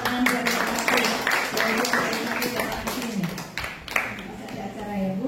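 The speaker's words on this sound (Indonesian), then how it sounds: "kasih tepuk tangan buat yang pati" An audience claps at a praise and worship gathering. The applause is steady and lively and runs throughout, with voices talking and calling out over it.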